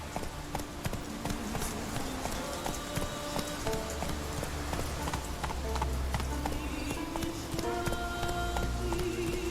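The horse Roach gallops in The Witcher 3: Wild Hunt, with quick rhythmic hoofbeats pounding steadily throughout, close and prominent over game music and ambient sound.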